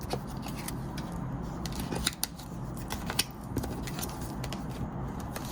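Tarot cards are shuffled by hand at close range, a run of crisp papery riffles and soft ticks, with a few sharper snaps and no talking.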